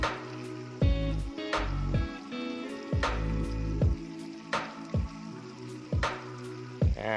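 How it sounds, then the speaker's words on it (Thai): Clear water pours from a pipe into a large backyard pond, fed by an electric submersible pump, with soft gurgles and splashes in an uneven rhythm that sound nearby and fairly quiet. "เสียงน้ำไหลโชกชุกชุกชุกชุกอยู่นะครับ"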